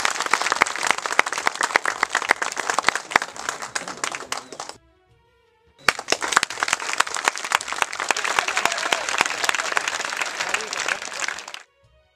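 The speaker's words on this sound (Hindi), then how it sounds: "जोरदार तालियां।" Loud, dense applause from a ceremony audience in two long bursts of clapping, with a brief silent gap between them.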